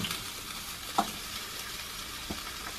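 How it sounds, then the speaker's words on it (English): Sausages sizzle on a very hot oven tray in a steady, faint hiss, broken by a couple of brief clicks. "You put your nice sausages in there"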